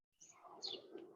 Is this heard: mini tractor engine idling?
no